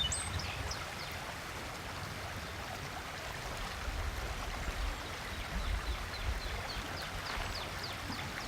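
Captina Creek in rural Ohio flows steadily with a continuous broadband rushing murmur, close and even throughout, with faint bird chirps above the water.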